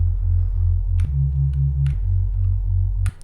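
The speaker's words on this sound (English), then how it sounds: "A very simple low pass sounding Reese, which really is just a couple of sine waves" A deep, smooth low-pass Reese synth bass built from a couple of sine waves drones loudly, shifting pitch twice, with sparse sharp clicks on top before it cuts off near the end.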